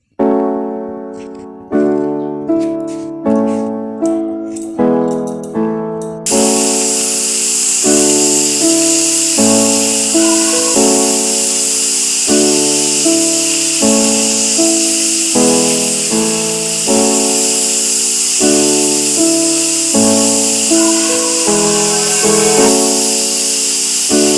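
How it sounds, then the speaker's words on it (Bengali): Potato slices fry on a flat tawa griddle, giving a steady broadband sizzle that starts a few seconds in and continues without a break. Plucked, melodic background music plays throughout, and no one speaks. "এদিকে রান্নাঘরে চলে এলাম একটু আলু ভাজবো বলে আমি সাধারণত চাটুতেই ভাজাভুজিগুলো করার চেষ্টা করি"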